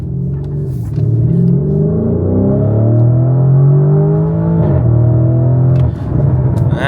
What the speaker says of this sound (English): Lots of burbles.